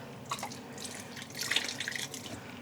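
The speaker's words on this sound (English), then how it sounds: "just squeezing out some of the excess water" Dyed yarn skeins squeezed by hand to press out excess water, giving quiet, close drips and short trickles that splash back into a basin, scattered over a few seconds with a slightly busier patch in the middle.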